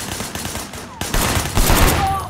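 Gunfire in the Sleeping Dogs video game, a rapid fusillade of shots in bursts that grow louder and denser partway through, with a faint voice in the mix.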